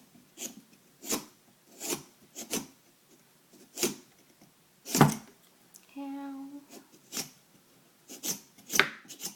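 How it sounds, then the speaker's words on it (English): A knife scores the bottom of a carved pumpkin with a steady series of rasping, scraping strokes, about one per second, close and moderately loud, pausing briefly midway for a short tonal creak. "I'm going to try and score the bottom"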